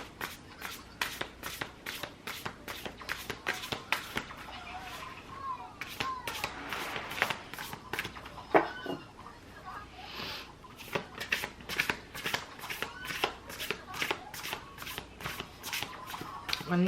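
Oracle cards shuffled by hand during a reading, a steady run of sharp riffling bursts and flicks repeating for the whole stretch, fairly close, with a soft voice faintly beneath.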